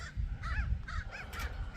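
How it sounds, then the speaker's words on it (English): A couple of crows cawing in a garden, several harsh repeated caws in a steady rhythm, moderately close, over low outdoor rumble with no talk. "Couple crows."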